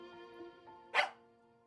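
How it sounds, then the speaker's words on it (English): A single short, sharp dog bark from the Tiny Bunny visual novel video game, close and fairly loud, cutting through a quiet sustained musical tone. "Something barked near my leg when we were crossing the schoolyard, interrupting Polina."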